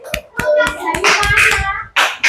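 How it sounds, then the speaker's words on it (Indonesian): Classmates clap for group 3 in a classroom, sharp hand claps in a loose rhythm that build into a short burst of applause, with children's voices mixed in. "terima kasih, tepuk tangan buat kelompok 3"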